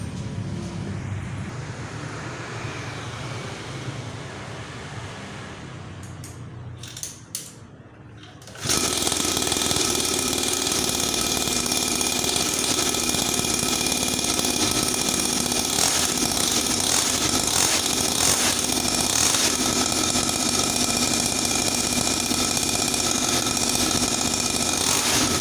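A rebuilt mini trail motorcycle engine starts after a few quiet clicks and then runs continuously at a loud, steady buzzing idle close by, with no talk over it.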